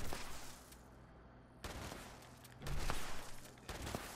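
Gunfire in the online game Fallout 76 comes in a few sharp bursts across a steady ambient bed, with one heavier volley partway through, at moderate loudness and with no talking.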